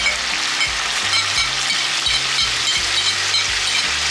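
Coarsely chopped red chilies fry in hot oil with a loud, dense, steady sizzle close up, while faint scraping strokes of stirring tick underneath.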